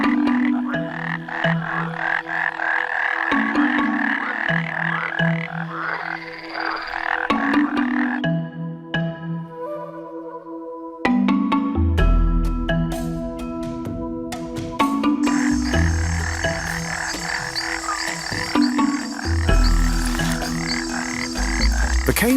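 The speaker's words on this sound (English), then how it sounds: "The cane toad is a large terrestrial toad native to South and Central America" Cane toads, large terrestrial toads, croaking in a dense chorus of sustained trills and pulsing calls, loud and close, with shifting overlapping voices and no speech.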